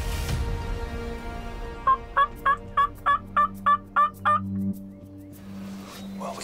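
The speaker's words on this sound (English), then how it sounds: "We heard him gobble once so far." A rapid burst of about eight wild turkey gobbles at a steady rhythm, clear but somewhat distant against a quiet outdoor background.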